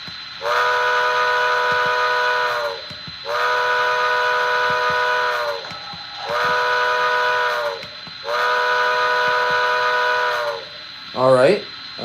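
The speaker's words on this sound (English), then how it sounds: "Long whistle." A model train whistle gives four long, steady blasts with short gaps between them, loud and close, followed by a brief rising chirp at the end.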